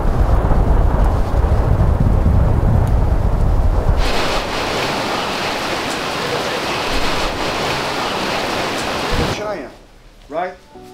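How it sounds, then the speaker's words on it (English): Heavy rain pours down in a loud, dense roar during a sudden rainstorm in Miami, Florida, easing partway through before tapering into quieter dripping near the end. "Downpouring rain. Now it's like we're caught in a rainstorm."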